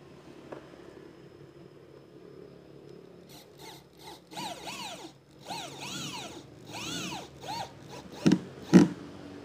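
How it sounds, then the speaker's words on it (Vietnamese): Power drill driving screws into a plastic loft floor panel, several short bursts of rising and falling whir, close, ending with a couple of sharp knocks. "Quý vị nha, tiếp tục bắn vít."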